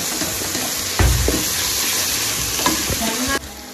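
Ginger garlic paste being stirred into a mixture frying in a pan. A steady close sizzle runs under repeated scraping strokes, with a heavier clatter near the start and a sudden cutoff at the end.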